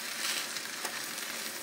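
Chicken simmers and fries in spaghetti sauce in a pan, making a constant soft sizzle and bubbling crackle, fairly faint and even, with no voices over it.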